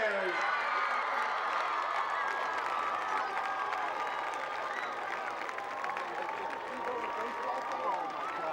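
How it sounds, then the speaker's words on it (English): A crowd at a 2014 high school varsity football game applauds the homecoming queen, with steady clapping, cheers and scattered whoops carrying evenly across a large open stand. "How about one more round of applause for the 2014 Homecoming Court, ladies and gentlemen"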